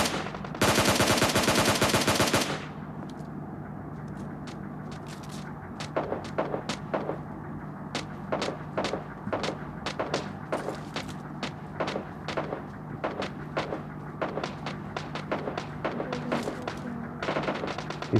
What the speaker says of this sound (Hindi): मेरे को गन शॉट की आवाज़ आ रही थी